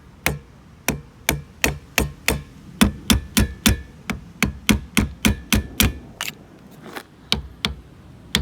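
A ratchet working on the rear wiper nut of a Vauxhall Corsa VXR makes a close, loud series of sharp clicking strokes in quick bursts, with short pauses between them.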